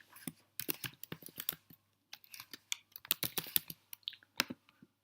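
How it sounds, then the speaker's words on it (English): Someone types on a computer keyboard in close, crisp bursts of clicking keystrokes, split by a short pause near the middle. "Let's type the name of the entity."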